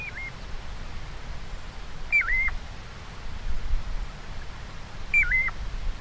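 A piping plover call played back from a bird app on a phone: three short, clear, rising-and-falling whistled notes spaced a few seconds apart, faint over a hissy, breezy background.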